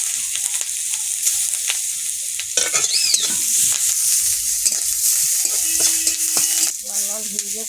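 Sliced onion frying in hot oil with cardamom, cloves and cinnamon for an egg-and-brinjal dish, a bright continuous sizzle with stirring scrapes and occasional clatter from the pan, steady and close throughout.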